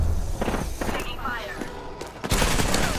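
Gunfire in a battle royale video game: bursts of rapid automatic shots crackle in clusters over about three seconds, with louder volleys near the end, while a voice talks over the shooting.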